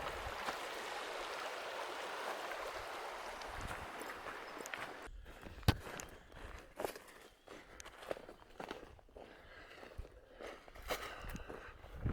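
A river flowing along a thru-hike on the Ice Age Trail gives a steady, moderate rush for about five seconds. Close footsteps then take over, crunching irregularly over quieter water.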